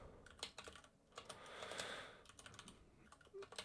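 Keys clatter quietly on a computer keyboard in irregular bursts of close, crisp taps, with brief pauses between runs and no speech.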